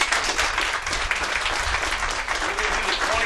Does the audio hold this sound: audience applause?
yes